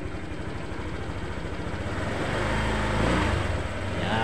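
A Honda Click 125 scooter engine running at a steady idle after a start, a dense, constant mechanical drone close by that swells slightly near the middle.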